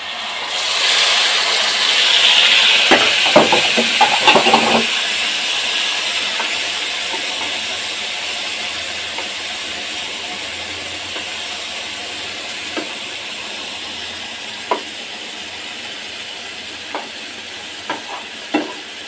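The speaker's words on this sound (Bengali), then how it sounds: "তাওয়ায় তেল গরম করে এটা দিয়ে দিব, ভাজা হয়ে যাবে।" Rohu fish belly pieces frying in hot oil in a pan give a loud, steady sizzle and hiss that lasts throughout, with a few clattering stirs early on and occasional sharp pops and spits later.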